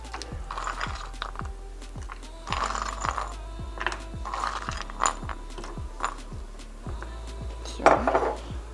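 Kolkhoz-style pelmeni dumplings are dropped into a pot and stirred, making a steady run of light metallic clinks and knocks close by. A louder clatter comes near the end, with no talking.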